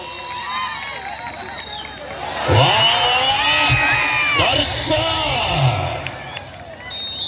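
A crowd at a high-stakes Alvas versus Bagalkot district match claps, cheers and whoops. The noise swells loudly in the middle and then eases, with an amplified announcer's voice carrying over it.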